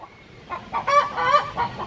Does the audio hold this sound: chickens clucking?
yes